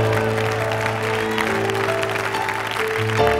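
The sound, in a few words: audience clapping hands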